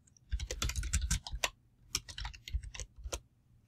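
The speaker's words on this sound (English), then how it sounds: "So just type in the text and hit enter." Quick bursts of keystrokes on a computer keyboard while text is typed as a comment reply in PowerPoint, crisp close clicks in two short runs with brief pauses, no voices.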